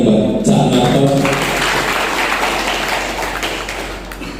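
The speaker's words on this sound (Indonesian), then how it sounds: "Tepuk tangannya buat Cak Narto" Applause at an inauguration ceremony of a lawyers' association legal aid board, a loud burst of many hands clapping in a hall that gradually thins and fades, with an electric hum underneath.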